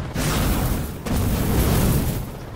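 A tank shell explosion in the Enlisted combat game: a dense, booming blast that starts sharply and rolls on with rumbling low-end energy, followed by a second loud impact about a second later, close and loud, with no speech.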